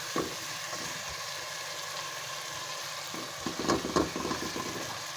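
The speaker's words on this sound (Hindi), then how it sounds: "ये तो नाज़रीन हमारा कीमा भुन गया है।" Minced meat keema with green chilies fries in a pan, making a soft continuous sizzle. A few scraping stirs break through near the end.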